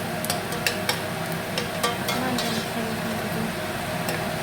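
Onions sizzle and fry in a pot while being stirred for soup. A steady hiss runs underneath, and the spoon knocks against the pot in light, irregular clicks and scrapes.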